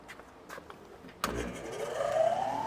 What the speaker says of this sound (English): So the first thing we're going to do is turn on the exhaust blower.